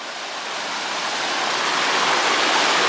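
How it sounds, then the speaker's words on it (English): A man-made waterfall in Waterfall Woods at Castle Horneck, its water encouraged over a structure, gives a dense, steady rushing roar that grows slightly louder over a few seconds, close and uninterrupted. "the waterfall is generally man-made, or at least the water is encouraged to go in that direction"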